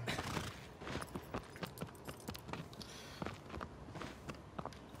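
Rapid hoofbeats patter unevenly, like a horse galloping over hard ground, in the video game Shadow of the Colossus, fairly faint and quick, with no talking.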